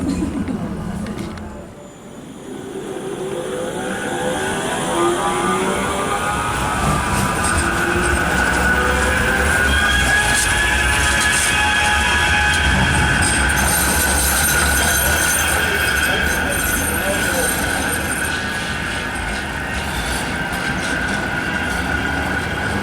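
Riding a Manchester tram between Deansgate and Piccadilly Gardens: a loud, continuous rolling rumble with rising and falling wheel squeal and whine, heard from on board, while speech is faintly present in places.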